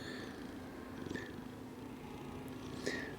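Dodger the cat purrs quietly and continuously up close, a low, even rumble with a couple of faint chirps.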